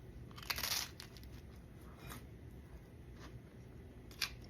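Crunchy chicharrón preparado is bitten and chewed close to the mic, a few brittle crunches spaced apart over low background noise, the first burst the loudest.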